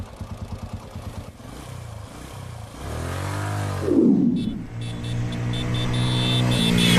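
A motorcycle engine putters nearby, then revs and roars past with a rising and falling whine before settling to a steady idle hum.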